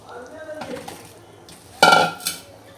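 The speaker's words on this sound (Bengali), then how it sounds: "এখন এর মধ্যে ভেন্ডিগুলো দিয়ে দিচ্ছি।" Okra is tipped into a pot of boiling curry made with green chillies and onion, with soft clinks of a utensil, then a sudden splashing clatter and a short second hit as the pieces drop in.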